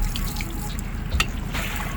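Water drains from the open plug hole of a jet boat sitting angled backward on a launch ramp, making a steady close trickle and splashing with a few distinct drips over a constant background wash.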